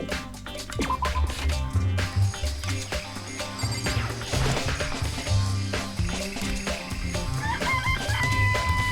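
Chickens cluck and a rooster crows in the video game Danganronpa, with repeated short calls mixed into busy game music and sound effects.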